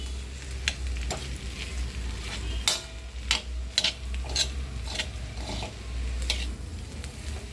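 Crushed coconut and peanut powder heats in a little oil in a pan with a steady soft sizzle, while a spoon scrapes and stirs against the pan in sharp intermittent clinks and scrapes.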